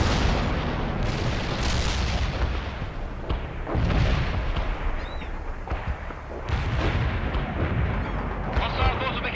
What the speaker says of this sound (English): Mortar ready.